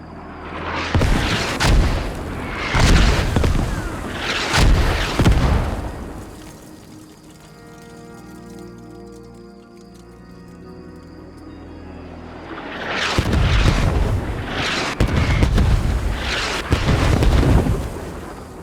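Heavy booms of T-62 tank cannon fire and mortar impacts in the game Squad come in two clusters of several loud blasts each, with a quieter rumbling stretch between them.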